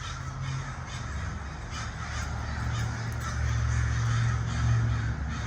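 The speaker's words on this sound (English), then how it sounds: "So much bird. Oh my goodness. They gone wild." Crows cawing in a wild flock, a steady loud chorus of many birds, near and continuous, over a low rumbling background.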